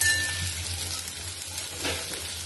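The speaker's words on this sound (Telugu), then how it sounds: "చూడండి ఫ్రెండ్స్, ఇలా వేగుతుంది కదా." Onion paste for crab curry frying in a pan, a soft, steady sizzle with a faint clink of a utensil near the end, no talk.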